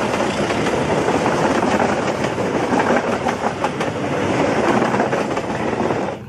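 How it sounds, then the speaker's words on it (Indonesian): Economy-class train carriages roll past on a railway in Indonesia, a loud continuous rumble with repeated clickety-clack wheel beats over the rails and no voices. "gerbong kereta api ekonomi."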